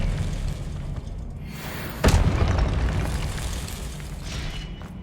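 A sharp burst from an Expelliarmus spell in Hogwarts Legacy cracks out over a low rumbling backdrop, one sudden loud impact followed by a fading wash.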